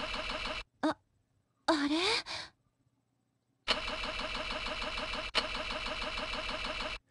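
A car engine cranks repeatedly without catching in a game scene, with long grinding starter bursts separated by pauses and a brief spoken word in between.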